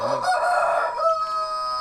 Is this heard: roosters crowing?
yes